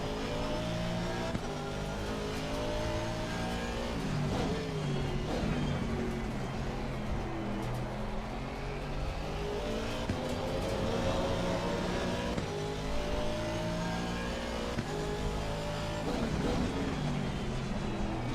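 Several GT3 race cars accelerate together in Assetto Corsa Competizione during a sim racing championship round, producing a dense, continuous roar of engines with shifting pitch as they rise through the gears.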